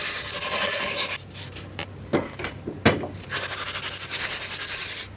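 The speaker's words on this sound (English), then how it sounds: "I keep lifting the spoke shave further and further" Spokeshave hollowing the wooden blade of a SUP paddle, repeated rasping shaving strokes with brief gaps and a couple of sharper scrapes, close and moderately loud, no talking.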